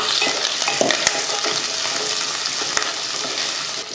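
Onions sizzle steadily in hot oil, with occasional clinks and scraping from stirring, close and continuous.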